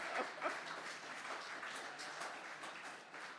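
Audience applause for the actor who played Herod in a church stage performance, a dense steady wash of clapping from a crowd that stays fairly even throughout, with no talking over it.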